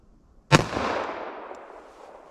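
A single sharp gunshot from a Glock 41 .45 ACP pistol, loud and close, with its echo trailing off over about a second and a half.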